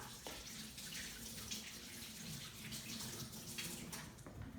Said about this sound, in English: Now I'm going to rinse off my hands so I can continue.